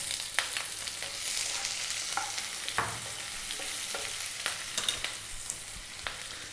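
Onion and curry leaves frying in a pan over above-medium heat, a steady hissing sizzle broken by scattered sharp crackles and spoon scrapes, close and continuous with no speech.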